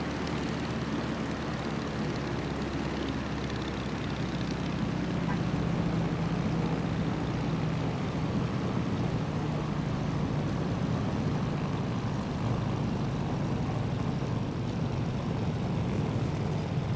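Propeller airplane engine in the Microsoft Flight video game, a steady droning hum that stays loud and even throughout, with a voice speaking over it.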